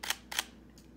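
Sony A7-series mirrorless camera shutter firing in low-speed continuous mode: two crisp mechanical clicks in quick succession, then a fainter third, close and alone with no talk.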